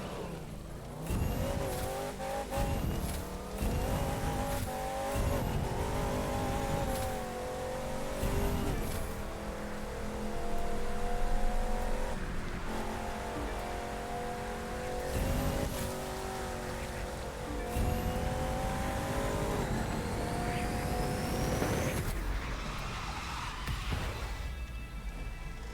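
Race car engine in The Crew 2 video game, revving and shifting gears repeatedly with rising and falling pitch, tire squeals and skids between bursts, loud and continuous throughout.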